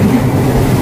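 Train approaching at night near a rail station in Bihar, a loud, steady low rumble for under a second with no talking.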